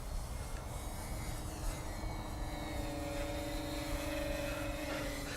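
RC RB Profile B-17 model airplane making a close pass overhead, its propeller engines giving a steady, loud droning whine that holds throughout with a faint rising tone toward the end.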